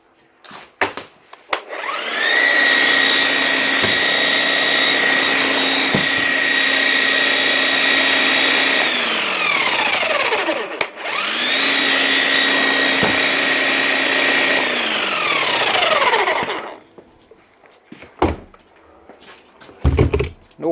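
A Bosch 11316 EVS demolition hammer with a fault runs without hammering: two long bursts of a steady motor whine that winds up and then spins down, separated by a short pause, with clatter and knocks before and after.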